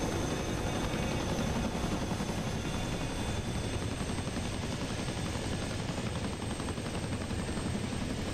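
An OH-58 helicopter in a flight simulator game, seen from outside, gives a dense steady rotor and turbine roar that stays loud and unbroken throughout.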